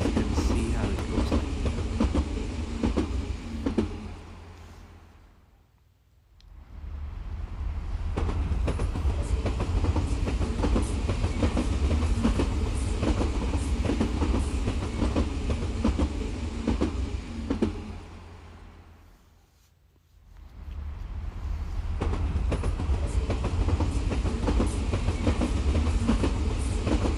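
A toy train runs along its track in the Trainstation 2 video game, a steady loud rolling clatter that dips briefly into quiet twice before picking back up.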